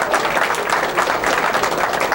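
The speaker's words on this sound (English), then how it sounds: "They're giving him a little applause for 50." Brief, steady clapping from spectators at a 1995 straight pool match between Efren Reyes and Jim Rempe, an even patter of applause throughout.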